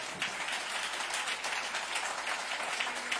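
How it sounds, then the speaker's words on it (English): A church congregation claps hands in praise during Sunday morning worship, a soft, steady spread of clapping heard from a distance. "Let's give the Lord a hand clap of praise."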